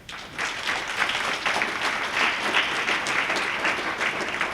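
A leadership conference crowd applauds steadily, dense clapping sustained at an even level throughout, with no voices breaking through.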